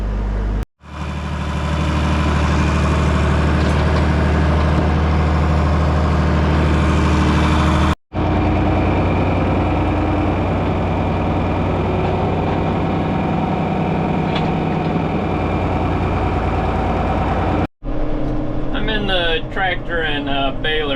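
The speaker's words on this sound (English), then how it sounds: "Tractor and baler now." A tractor engine pulling a hay baler drones loud and close in a continuous broadband rumble, cut by brief dropouts, with a voice faintly audible near the end.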